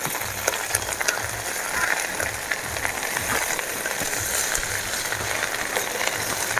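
Drumstick leaves (murungai keerai) being stir-fried in a pan make a steady, close sizzle and crackle with faint scraping from stirring, continuous throughout with no voices.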